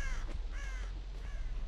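A crow caws in the Dead by Daylight video game, three harsh drawn-out calls in slow succession, fairly quiet and alone with no talking.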